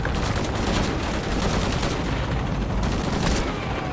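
Heavy continuous gunfire from Shadow of the Tomb Raider on PS5, a loud, dense fusillade of overlapping shots that fills the whole stretch without pause.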